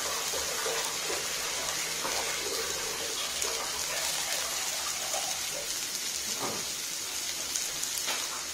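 Water pours into a cooking pan for Maggi noodles, a continuous splashing gush close by with no voices.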